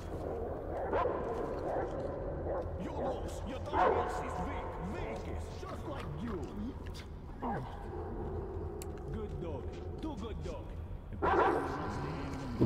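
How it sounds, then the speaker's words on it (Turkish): A dog barks and yelps in the post-apocalyptic game Metro Exodus, a few sharp bursts spaced across a low rumbling backdrop while someone talks over much of it. "Orada da bir köpek var."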